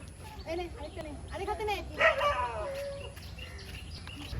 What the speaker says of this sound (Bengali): কুকুরগুলো ঘেউ ঘেউ করছে তো বাদরগুলো ভয় পাচ্ছে